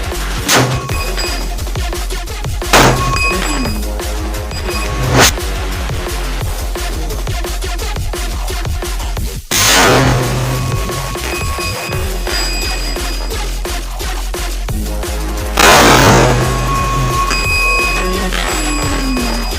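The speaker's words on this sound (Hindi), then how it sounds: "गाइस देख सकते हो काफी बड़ा धमाका हुआ यहाँ पे।" Homemade bomb packed with matchstick powder set off on top of a small fort, giving two sudden loud blasts several seconds apart amid scattered thuds and clatter over a steady tonal background.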